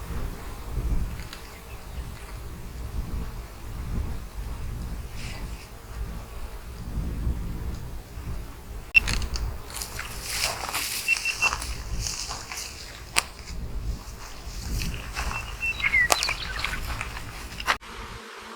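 Honey bees buzz around opened nuc boxes during installation, a steady low hum that grows louder and busier partway through, with scattered clicks and handling knocks of frames and equipment nearby.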